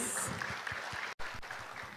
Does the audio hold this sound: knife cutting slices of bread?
no